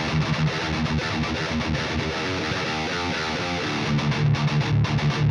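Distorted electric guitar through a metal amp simulator plays tight, rhythmic palm-muted chugs, loud and dense throughout with short gaps between riffs and no voices.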